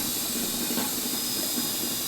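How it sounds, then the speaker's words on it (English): Small steam generator with an immersion heater used for honey harvesting, giving off a steady, fairly loud hiss that runs unbroken for about two seconds with no speech. "I don't know if you're able to hear that little hiss, but this little device down here is generating a lot of steam"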